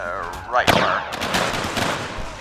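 Musket volley in the Mount & Blade Warband Civil War mod, a sharp crack near the middle of the clip followed by a spreading, rumbling roll of ragged shots and echoing gunfire, with battle noise beneath.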